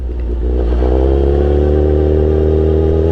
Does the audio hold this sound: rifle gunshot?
no